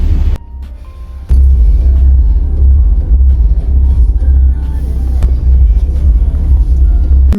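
A car driving into a car park with a loud, steady low engine rumble and road noise heard from inside the vehicle, plus a few brief clicks and knocks.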